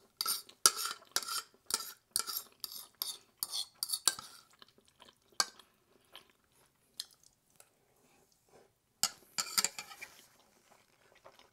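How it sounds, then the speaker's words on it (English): Utensils scrape and clink in a pan as food is mixed with sugar over high heat, a run of sharp irregular strokes that thin out, then a final few clatters; close and fairly quiet, no talking. "Throw it all in there, mix it around on a high heat"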